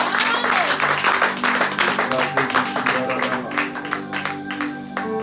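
A church congregation claps and cheers together at an evening service, a loud, continuous burst of applause with sustained music tones beneath it.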